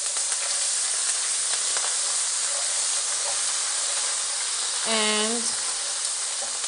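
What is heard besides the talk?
ginger garlic paste sizzling in hot oil in a pan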